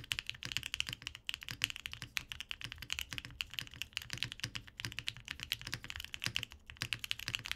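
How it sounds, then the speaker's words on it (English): Brisk, continuous typing on an Owlabs Vento 80 mechanical keyboard with a deeper, clacky tone, dense rapid keystrokes close up and alone. "this keyboard leans towards the deeper side of the spectrum, but it definitely can clack with the best of them"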